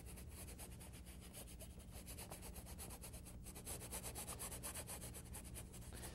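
A brush scrubs paint onto a canvas while painting moonlit snow, making a faint, continuous rough rubbing that runs steadily throughout with no voices.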